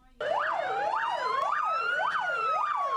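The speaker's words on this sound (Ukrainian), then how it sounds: "під звуки сирени пожежних машин" A loud fire truck siren wails up and down in quick, repeating sweeps, steady and close, with no voices.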